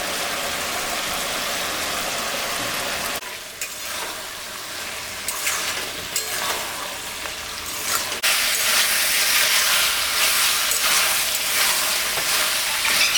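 Sizzling of white sesame, mustard and green chilli paste added to a pan of curry with rui fish head and pui greens, a steady broadband hiss that falters briefly and then returns louder and brighter.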